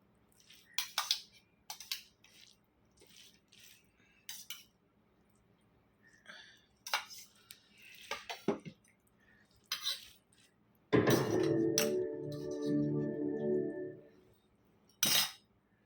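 Dishes and cutlery at a home meal as eating begins: scattered light clinks and taps of spoons on plates, then a longer, louder scraping clatter, with a final sharp clink.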